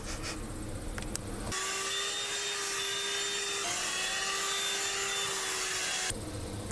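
A steady vacuum cleaner motor drones loudly for several seconds, switching on abruptly and cutting off near the end as the vacuum dies, with no voices.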